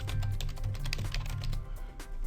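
A new schedule name is typed on a computer keyboard in dispatch software, a quick run of close, crisp keystrokes with slightly uneven rhythm over a low background hum.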